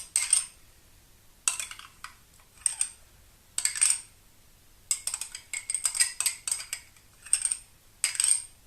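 A metal spoon scraping and clinking against a bowl of cake batter in irregular bursts, close up, with brief pauses between stirring strokes.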